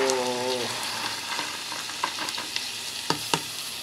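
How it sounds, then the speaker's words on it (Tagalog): Mung beans go into a pot of cooking pork, under a steady close sizzle and bubbling with a few scattered soft clatters and knocks as they are added. "Lagay na natin yung munggo."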